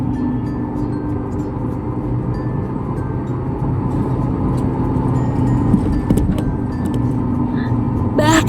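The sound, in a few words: car driving on a main road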